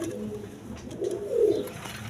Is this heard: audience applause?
no